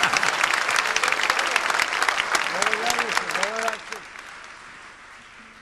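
Concert audience at a rock performance breaks into dense, loud applause that swells and then fades out, while someone speaks over the clapping.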